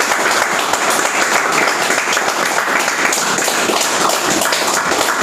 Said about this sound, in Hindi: तो एक माई रिचार्ज आयुर्वेदा के लिए जबरदस्त ताली